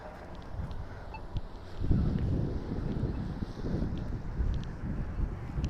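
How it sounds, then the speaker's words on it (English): A light outdoor breeze buffets the microphone on a city street walk in NE Minneapolis, with a steady low rumble that strengthens in gusts. "Yeah, there's a little breeze."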